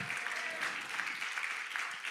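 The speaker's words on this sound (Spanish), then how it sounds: "¿Me le quiere dar un aplauso a él para que me motive ahí?" A church congregation claps in a dense, steady round of applause that fills the room at moderate volume throughout, with no voices standing out.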